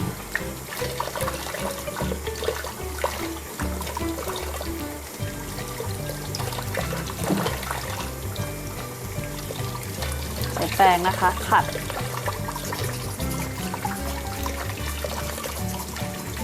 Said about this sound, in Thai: ปิดน้ำไหลผ่านตลอดเลยนะคะ